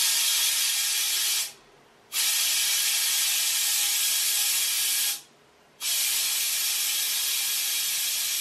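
Compressed air is pumped into the bladder of a water-system expansion tank, a loud steady hiss that cuts out twice for about half a second before resuming.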